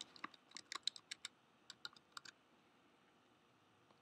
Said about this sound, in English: I'm using my arrow keys for pinpoint accuracy.